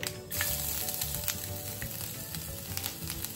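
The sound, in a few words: mustard seed tempering frying in oil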